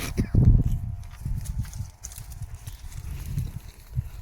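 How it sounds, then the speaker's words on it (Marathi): Goats in a semi-confined pen leap and shuffle about, their hooves thudding and clattering on the ground in an irregular, continuous patter with a louder burst near the start, close by. "बघा कशा उड्या मारते शेळ्या"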